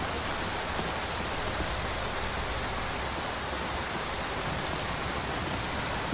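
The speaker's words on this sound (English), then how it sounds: "Lydia, I am sick and tired of walking in this rain." Rain falling near Rorikstead in the Skyrim VR game makes a steady, dense hiss that holds an even level throughout, with no talking.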